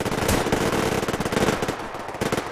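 Rapid bursts of automatic gunfire from the video game Survarium crack close and loud in a dense, uneven rhythm, with no talking.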